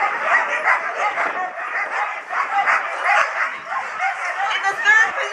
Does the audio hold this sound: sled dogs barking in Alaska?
yes